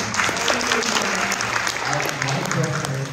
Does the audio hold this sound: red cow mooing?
no